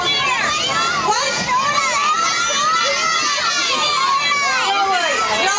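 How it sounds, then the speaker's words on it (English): A crowd of children in an audience at an animal show screams and shouts together, loud and continuous for several seconds, with chatter mixed into the din. "You're all screaming at me."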